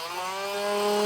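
Power tool trimming a plastic bumper panel on a 2024 Jeep, a loud, steady whining buzz with a rising pitch, heard alone for about a second.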